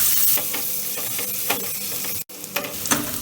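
Finely chopped onions sizzle in a pan over low-medium heat while being lightly browned for spinach pulao. The frying hiss is loud and steady, with periodic stirring scrapes and a momentary dropout near the end. No one speaks.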